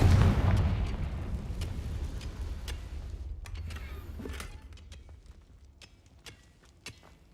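A Confringo blasting spell exploding in the Hogwarts Legacy video game, a heavy booming blast with a long rumbling decay, followed by scattered crackles and small debris pops as it fades.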